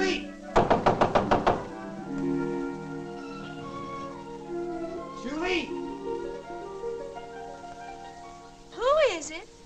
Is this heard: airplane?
no